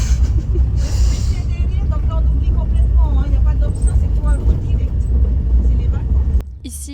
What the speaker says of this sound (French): on roule sur la route principale bétonnée